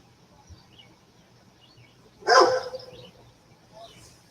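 A single bark from Rottweilers on the steps at the door, a short sharp burst in the middle of an otherwise quiet stretch with faint background chirping.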